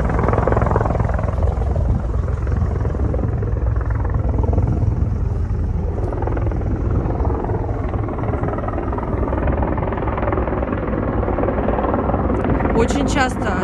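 Helicopter flying over a coastal lookout point at Kabardinka near Gelendzhik, a loud steady low rotor drone filling the whole stretch without letting up.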